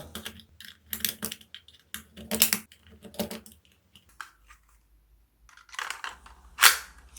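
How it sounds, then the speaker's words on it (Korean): Small plastic toy pistol rounds clicking one at a time into a magazine, each loading a crisp close click in short clustered bursts with pauses between, ending on a louder snap. "완성된 탄들은 탄창에 한 발씩 끼워줍니다"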